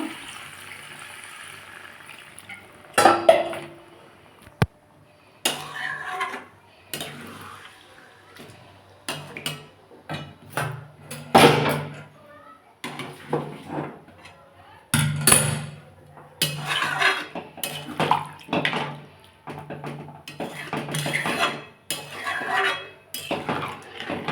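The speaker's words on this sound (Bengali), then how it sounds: "দিয়ে এটা একটু নাড়িয়ে দেবো বন্ধুরা" Cauliflower and potato curry with peas is stirred in a pan, the spoon scraping and clinking against the metal in repeated uneven bursts, close and fairly loud, with brief pauses between strokes.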